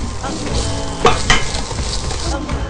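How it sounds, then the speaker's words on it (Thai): Chicken stir-fried in panang curry sauce over low heat, a loud close sizzle with repeated scraping and clanking of a utensil against the pan, no voices. "ผัดจนกว่าจะหอมนะครับ ผัดให้หอมเลยนะครับ"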